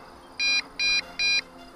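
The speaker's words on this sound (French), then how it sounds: "Ah, il commence à biper, parce qu'on arrive à 2 barres." A drone or its controller beeps three times in an even rhythm, with short, bright electronic tones above a quiet background hum, signalling low signal strength.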